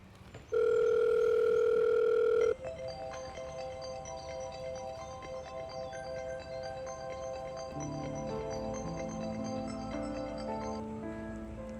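A single steady telephone tone holds for about two seconds while a call is placed. Softer layered tonal sounds continue quietly behind it.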